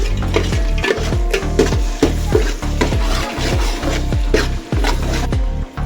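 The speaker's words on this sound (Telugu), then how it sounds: "అదేవిధంగా పచ్చిరీలు కూడా దీంట్లో వేసుకుని శుభ్రంగా కలపాలి కొద్దిగా అల్లం వెల్లుల్లి పేస్ట్" Prawns being mixed with biryani masala and ginger garlic paste in a pan, heard as loud, steady rhythmic stirring and scraping strokes roughly twice a second over a constant sizzle, with no voices.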